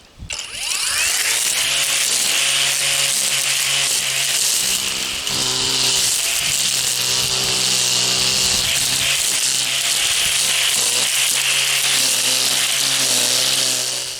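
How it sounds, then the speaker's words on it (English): A Saker brushless string trimmer cuts grass, a steady loud whine with harmonic motor tones running almost unbroken, with brief dips in pitch as the line meets the growth. "Well, let's go trim some grass."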